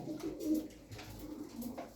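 Hünkari pigeons, a Turkish breed with blue wings, murmur a couple of brief low coos nearby, faint and soft against quiet background noise.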